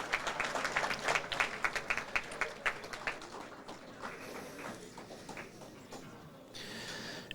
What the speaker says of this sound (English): Ladies and gentlemen, can we give her a round of applause